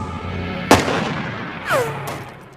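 A single sharp sniper rifle gunshot in a film cracks out, followed by a fading rumble and a second, softer muffled shot with a brief whistling tone.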